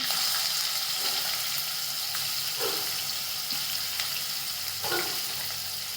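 Onion and green chillies with cumin and asafoetida sautéing in a pan give a steady, close sizzle with occasional soft stirring scrapes.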